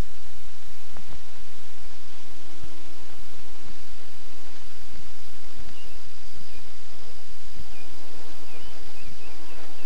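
A close, continuous insect buzz drones throughout at a steady pitch, loud and unbroken, with faint taps underneath.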